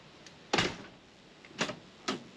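A mesh security door with a crimsafe-style panel on a Vacationer Rough Rider off-road caravan is shut with a tight suction seal, giving three or four sharp, close knocks and clacks separated by brief quiet.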